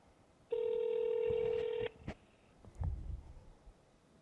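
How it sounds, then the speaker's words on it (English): A phone call being placed gives a loud, steady dual-tone dialing beep lasting over a second, followed by a couple of short clicks and a faint low thump. "I'm going to try to attempt a live demo by placing a call using my phone"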